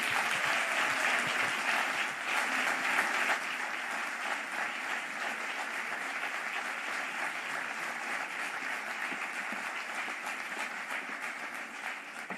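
At a 125th anniversary ceremony in Llanera, an audience gives long, steady applause as a dense wash of clapping that stays even and fairly distant.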